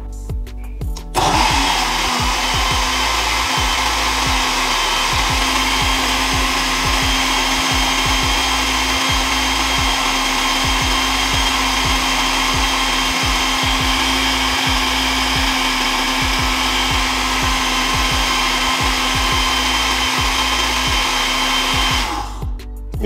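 A blender whirs steadily for about twenty seconds while mixing a Jamaican pumpkin smoothie with ice, with a loud, continuous motor drone and rattling knocks as the ice churns, then it cuts off abruptly.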